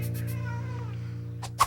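A pet cat, one of four long-haired cats in a family home, lets out a drawn-out, close meow over a steady low hum, with short bursts of noise at the start and end.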